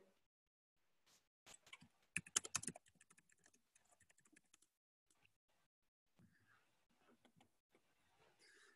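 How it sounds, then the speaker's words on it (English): Typing on a computer keyboard while entering a plugin name into a search box, heard as quiet, irregular bursts of clicking keystrokes, densest in the middle and trailing off into softer scattered taps. "So we're typing in the plugin name into the search box."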